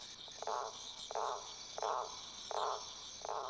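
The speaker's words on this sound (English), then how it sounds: "it's only the males who do all the croaking" Frogs croak in a regular series of five short, raspy pulses roughly every 0.7 seconds, fairly faint over a steady high insect-like drone, with no voices.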